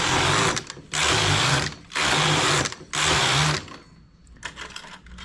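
A knitting machine works rows of stitches, three loud, harsh passes of the carriage, each about a second long and split by short pauses, then quieter clicks and handling noises.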